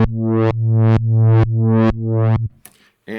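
Reverse sawtooth waveform from a Moog Grandmother analog synthesizer. It is a low, buzzy tone that repeats in five evenly spaced sweeping pulses, each rising to a bright, harmonically rich peak and then cutting off abruptly. A brief noise follows at the end.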